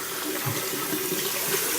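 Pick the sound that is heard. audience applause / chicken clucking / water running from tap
water running from tap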